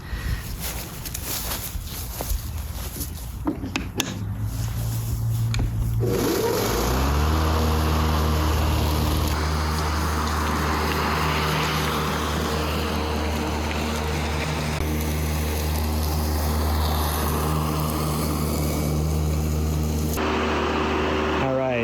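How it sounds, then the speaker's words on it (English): DeWalt 60V MAX battery push mower cutting grass, a loud steady motor hum with a low tonal drone that settles in after a few seconds of handling noise and continues unbroken to the end. "the few minutes I've been mowing."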